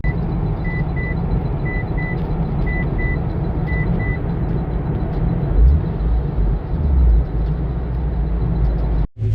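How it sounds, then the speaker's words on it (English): Traffic noise at a roadside car meet: a steady broadband rumble of other cars, with a couple of louder engine swells passing by and faint repeating beeps, heard without talk. "It's a little loud, other cars"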